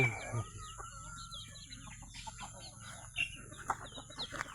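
Hens cluck softly while chicks peep in quick, high chirps, a busy flock close by with scattered calls throughout.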